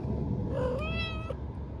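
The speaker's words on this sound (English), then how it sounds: "There's my cat." A pet cat gives a single clear meow with a rising then falling tone, close by in a quiet basement room.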